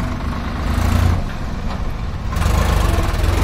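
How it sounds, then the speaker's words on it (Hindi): A Swaraj tractor's diesel engine chugs and rumbles nearby, its low throb swelling louder toward the end as it draws closer. "तो यहाँ पे अब आ रहा है स्वराज का ट्रैक्टर।"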